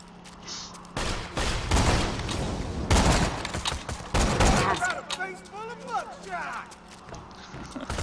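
Shotgun blasts in Borderlands 2: several loud, close bursts in the first five seconds, followed by scattered creature chirps and squeals.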